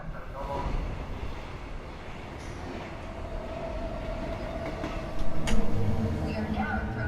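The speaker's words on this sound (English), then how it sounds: "Wonder if this is the same train we just got onto as Kara." Commuter train ride in Detroit: Become Human, a continuous rumbling roll with rhythmic clacking and a brief louder surge near the end, heard from inside the carriage with some speech over it.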